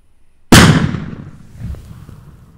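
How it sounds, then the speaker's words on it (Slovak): A single loud firecracker blast goes off close by, a sharp bang followed by a rumbling, fading tail. "Tak dáme si ešte jednu petardu na tomto mieste"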